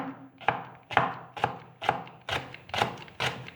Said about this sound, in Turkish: Taze soğanlarımı doğruyorum.